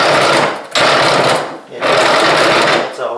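A bench vise rattles in loud, harsh chatter in two long bursts separated by a brief lull, the buzzy clatter close and overpowering.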